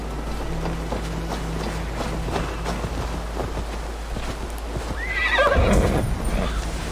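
A horse in Assassin's Creed Valhalla gives a sharp, close whinny near the end, amid soft clip-clop hoof steps over a low, steady ambient hum.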